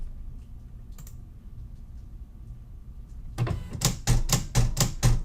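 A Silhouette CAMEO cutting machine works on an oversized decal panel: after a quiet hum, it breaks into a loud run of rhythmic mechanical thumps and whirs as the carriage shuttles back and forth.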